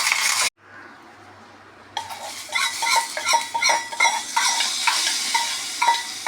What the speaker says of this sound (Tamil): கொஞ்சம் உளுத்தம்பருப்பு, கொஞ்சம் வெங்காயம், கருவேப்பிலை, காஞ்ச மிளகா கிள்ளி போட்டு தாளித்து கொட்ட வேண்டியதான்